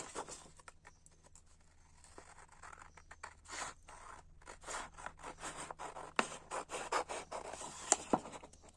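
Scissors snip and paper rustles while a scrapbooking gift box is being cut and folded, giving a quiet series of irregular close cuts and scrapes that grow denser and louder toward the end, with no voices.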